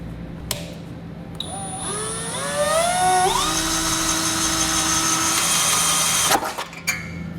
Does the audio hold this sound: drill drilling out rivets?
yes